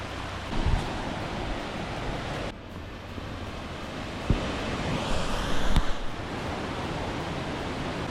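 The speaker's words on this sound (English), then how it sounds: "The stream coming downhill as we're driving up, there are waterfalls everywhere" A mountain stream rushes downhill past a road in the Great Smoky Mountains foothills, heard as a steady, dense wash of water noise with a few faint knocks.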